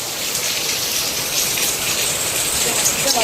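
A heavy downpour falls outside in a steady, full rushing wash of drops, close and constant with slight swells in intensity.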